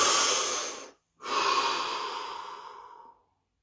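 A person takes a deep breath: a long airy inhale cut off by a brief pause, then a longer, slowly fading exhale, close and clear with no talking.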